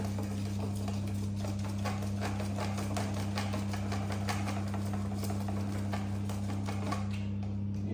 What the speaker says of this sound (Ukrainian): потрібно не спішити, а ретельно перемішувати